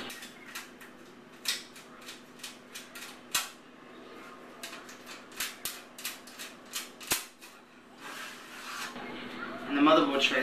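Thumb screws on a Case Labs Merlin SM8 PC case turning loose, a run of sharp metallic clicks and light scraping, close and fairly quiet, with a brief louder rustle near the end.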